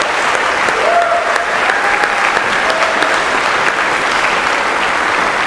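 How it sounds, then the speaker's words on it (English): Loud, close applause from a school concert audience for the 2018-19 Concert Orchestra at a spring concert, steady and sustained throughout, with a few faint tonal sounds under the clapping. "How about one more round of applause for the 2018-19 Concert Orchestra?"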